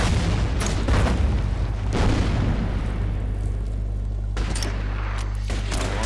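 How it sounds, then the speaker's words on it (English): Mortar fire in the World War II strategy game Order of Battle WW2, with booming explosions landing over a constant low rumble, a few heavy blasts spaced apart and several sharper bursts near the end. "And put some more mortar fire on them."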